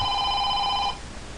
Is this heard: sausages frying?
no